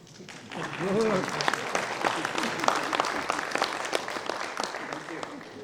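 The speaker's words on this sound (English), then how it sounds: "The students of this university, they can clap." University students clap in a campus hall, a fairly dense round of applause rising after a brief spoken phrase and holding steady for several seconds.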